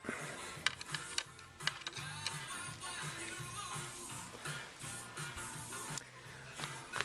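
Screws being snugged up on a Kawasaki Ninja 250 instrument panel, with busy close clicking and rattling handling sounds over steady background noise, no talk.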